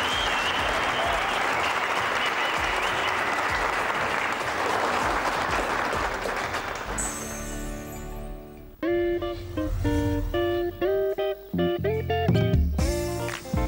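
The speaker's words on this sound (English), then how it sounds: "Give them a round of applause, please" A crowd claps loudly and steadily for several seconds for four talent show finalists, then the applause gives way to upbeat music that plays to the end.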